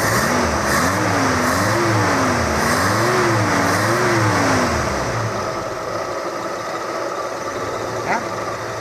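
The engine of a Toyota Kijang Super runs close and loud, rising and falling in a wavering rev for several seconds before settling into a steadier idle. Faint voices are heard briefly near the end.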